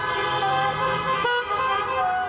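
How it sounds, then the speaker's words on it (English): Many vehicle horns honk at once during a protest around the French embassy in London, sustained overlapping toots from cars and buses with traffic rumble beneath, loud and continuous throughout. "Hundreds of protesters honked their vehicles around the French embassy in London"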